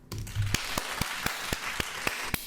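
Hand clapping, a string of sharp, evenly spaced claps over a low steady background hiss, no talking.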